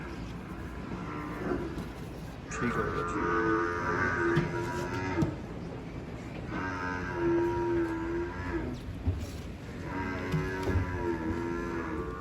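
Buffaloes at a live milking competition in Multan low repeatedly in long, loud moos over a steady crowd murmur, with a man's brief remark in between.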